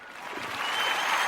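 A short burst of applause for a guest on a podcast, clapping that swells from a soft start to a steady wash within a second or so.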